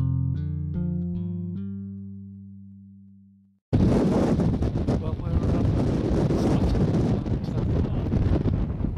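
Wind gusting hard across an open hilltop near a summit cairn, a loud steady roar with buffeting that starts abruptly after a few seconds of quiet and keeps up to the end.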